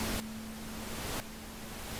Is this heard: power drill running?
no